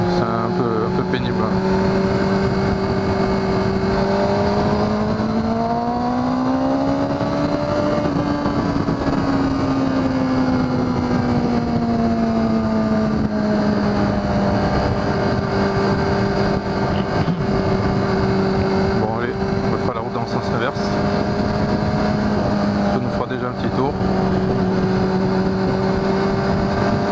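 A Kawasaki ZX6R motorcycle with its stock exhaust emptied out, engine droning loudly and steadily throughout, pitch swelling and easing as speed changes while riding, with someone speaking over the noise.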